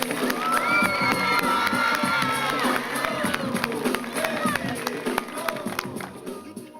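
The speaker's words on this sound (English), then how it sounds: "Let's give him a round of applause" Elementary school assembly crowd of children cheering, shouting and clapping for a record-breaking basketball dribbler, a loud, sustained roar filling the gym throughout.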